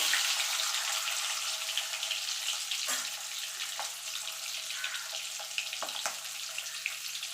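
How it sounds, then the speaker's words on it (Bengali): Eggs frying in oil give a continuous bright sizzle, with a few sharp pops and taps of a utensil scattered through it and no voices. "ডিমগুলো ভাজা হয়ে গেছে"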